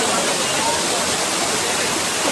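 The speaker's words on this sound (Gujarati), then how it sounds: "હવે હું તમને ધોધ દેખાડું" Jatashankar waterfall near Junagadh roars nearby in a loud, unbroken wash of falling water, steady and full throughout the short stretch.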